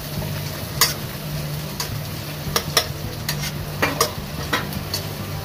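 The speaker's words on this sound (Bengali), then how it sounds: "আমি দিয়ে দিলাম পেঁয়াজ কুচিটা।" Chopped onion fries in a pan under a soft constant sizzle, with a spoon scraping and clinking against the pan at irregular intervals, and nobody speaking.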